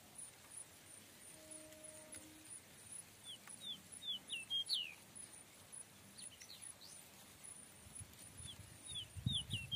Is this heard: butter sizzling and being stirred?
no